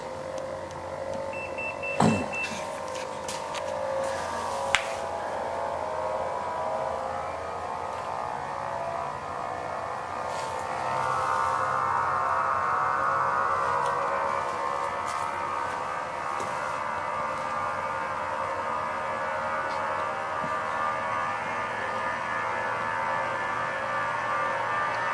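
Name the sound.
homemade pulse motor starting up and running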